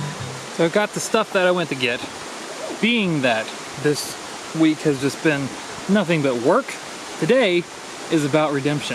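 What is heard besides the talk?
creek water flowing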